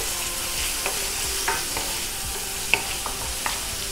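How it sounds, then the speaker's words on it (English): Finely chopped onions sautéing in a pan, a steady sizzle with sharp spatula scrapes and taps at irregular intervals, close and clear. "So I'm adding in my finely chopped onions. I'm gonna saute them up until they're nice and soft."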